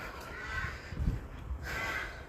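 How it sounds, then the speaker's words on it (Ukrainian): Crows caw near a hotel where bread has been scattered for them, two harsh calls a moment apart over soft outdoor background noise, fairly close. "Дивіться, хтось накидав хліба воронам."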